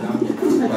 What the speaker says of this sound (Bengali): নিজে রেস করা সবজি কবুতর লাইট কালারের